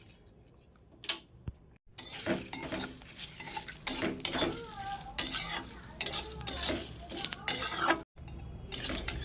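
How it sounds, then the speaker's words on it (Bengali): Bay leaf, dried chilli, cumin, fennel and coriander fry dry in a pan, with an ongoing sizzle under frequent scraping and clattering from a spatula. The stirring is close and busy and comes in bursts, with no voice. "এটাকে 2-3 মিনিট ধরে ভালো করে ভেজে আমরা এটা গুঁড়ো করে নেব।"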